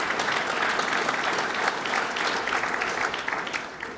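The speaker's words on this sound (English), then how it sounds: "let's give them a round of applause for their good work" An audience applauds the GE Research Center staff at a governor's business partnership announcement, sustained even clapping from a sizable crowd, loud and steady throughout before tapering slightly at the end.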